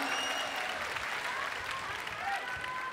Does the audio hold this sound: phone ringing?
no